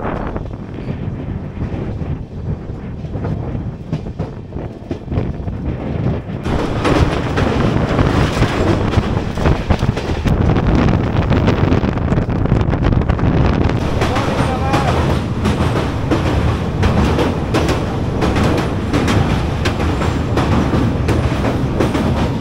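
Passenger train running on the line toward Naxalbari near Siliguri, heard from inside the carriage as a steady loud rumble with wind noise across the microphone, growing louder partway through.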